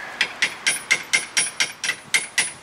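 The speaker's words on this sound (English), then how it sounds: "There could be air bubbles in it anywhere, so I like to tap on the caliper." Nine quick, evenly spaced metallic taps on a new front brake caliper of a 2005 Lexus ES330, struck with a hammer to free trapped air, each a sharp close knock with no talk.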